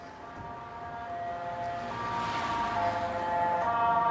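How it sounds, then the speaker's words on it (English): Emergency siren of an ambulance coming along a street, its steady tonal wail rising gradually louder and fuller over a few seconds amid general outdoor background noise, with no talk. "there was an ambulance coming"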